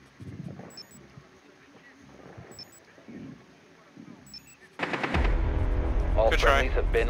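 Heavy gunfire erupts midway through a Rainbow Six Siege team deathmatch on the Favela map, loud sustained bursts of shots taking over after quieter game ambience with faint player voices.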